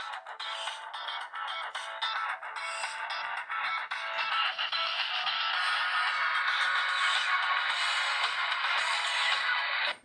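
Bright synthesized ringtone melodies from a Motorola Rokr E1 mobile phone, a quick run of beeping notes that gives way to a sustained, louder electronic tune, played alone without talk.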